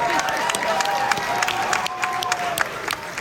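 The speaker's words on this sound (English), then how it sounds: "I have never heard a crowd cheer for a statement like that." A large crowd at a gaming convention panel cheers and claps in a dense, continuous roar with scattered whoops and sharp claps, heard from within the crowd.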